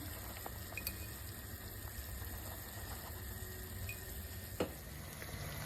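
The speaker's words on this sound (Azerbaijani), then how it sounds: "İndi isə soğanın üzərinə kərə yağı əlavə edirik, qoyuruq qızarmağa." Onions fry in butter for khinkali, giving a quiet, steady sizzle with faint crackles and one small pop, and no voices.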